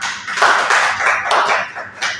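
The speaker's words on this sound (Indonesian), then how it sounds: "Beri tepuk tangan" Clapping from a small group in a micro-teaching classroom practice session, close and uneven, with several separate bursts of hand claps pulsing across a couple of seconds.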